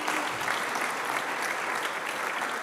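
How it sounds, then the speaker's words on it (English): Audience applause at a community meeting on race and equity, an even, sustained wash of many hands clapping that sounds somewhat distant and soft, with no voices over it. "How about we give yourselves a round of applause for taking part in this important conversation."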